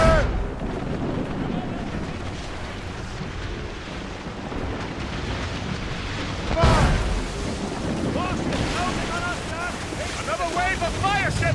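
Naval mortar fire from a sailing ship in Assassin's Creed Rogue, a heavy boom bursting out over steady wind and ocean wash, with shouting voices in the battle.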